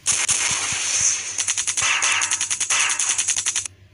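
Rapid machine-gun bursts from a jet fighter combat video game, a fast rattling stream of shots that breaks into distinct, evenly spaced pops toward the end, loud and close with no talk.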